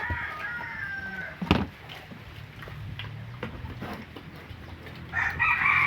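Chickens, including a young hen, cluck and squawk for feed at close range in a short burst of calls, with a sharp squawk early on and a louder cackle near the end.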